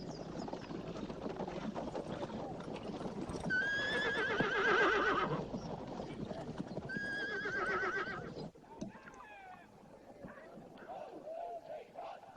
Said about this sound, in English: Our good Colonel Durnford scored quite a coup with this Secale horse